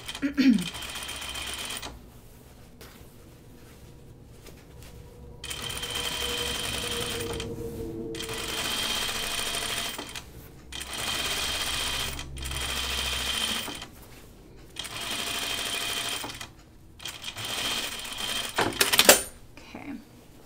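A sewing machine runs a stay stitch along a shirt neckline in several short bursts separated by pauses, its steady mechanical whir close and moderate in volume, with a brief clatter near the end.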